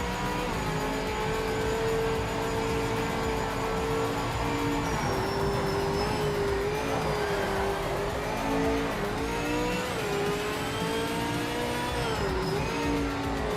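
Ford Falcon race car in Project Motor Racing, its engine droning steadily and rising and falling as it shifts through gears, with a faint tire squeal and no voices.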